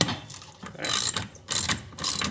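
A hand ratchet loosens clutch bolts on a Polaris Sportsman 500 H.O. during an EPI clutch kit install, with several close bursts of quick clicking pawl strokes separated by short pauses.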